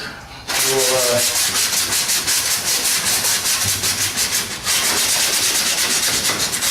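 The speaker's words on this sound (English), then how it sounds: "Finger sanding. This is how you get it perfect," Steady, continuous hand sanding on wood, a dry rhythmic scratching rub that carries on close and loud with only a brief pause near the end.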